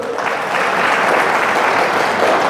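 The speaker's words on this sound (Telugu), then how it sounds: "వచ్చింటే గట్టిగా చప్పట్లు కొట్టాడు" Audience applause at a Sai devotees' satsang gathering: steady, dense clapping from a crowd that runs the full length, fairly loud and even with no break.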